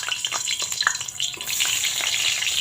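Eggplant slices frying in hot oil in a wok, a loud, continuous sizzle with bright crackles and spits, heard alone without talk.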